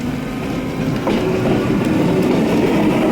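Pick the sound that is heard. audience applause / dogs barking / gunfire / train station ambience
train station ambience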